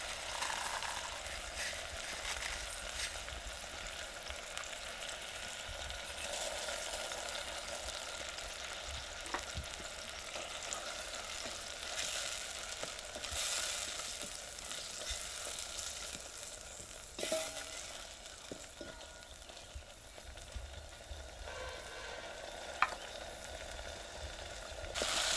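Sev noodles fry and are stirred into a spiced masala in a pan at a village kitchen, with a steady soft sizzle, scraping strokes and occasional clinks throughout.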